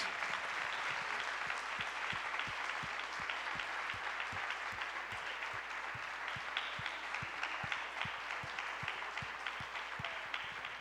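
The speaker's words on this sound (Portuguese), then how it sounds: "Eu queria que você desse um aplauso a Jesus por essas vidas" Congregation at a Brazilian church family celebration service applauds steadily, a dense wash of many hands with a sharper rhythmic clap keeping time, sustained and even throughout with no talking over it.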